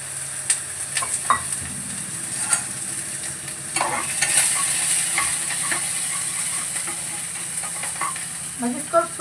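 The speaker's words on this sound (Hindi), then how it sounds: "बस इसको सूखा सूखा भूनना है" Food is dry-roasted in a pan without oil while being stirred. A steady hiss and sizzle runs underneath repeated scraping and clinking strokes of the spoon against the pan.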